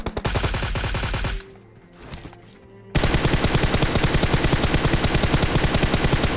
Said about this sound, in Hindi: लेकिन मेरा टीममेट जो है ओपन में चला जाता है और तभी वो मेरे टीममेट में फायरिंग करता है।